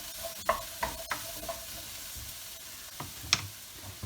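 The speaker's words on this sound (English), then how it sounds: "We are going to keep cooking these until they're ready." Paella ingredients cooking in a pan, with a soft steady sizzle under scattered clinks and scrapes of a utensil stirring, fairly quiet and close, no voices.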